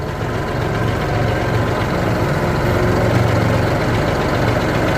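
A tractor engine idles nearby during log-pulling tree work, a steady low rumbling drone with an even chug that holds throughout.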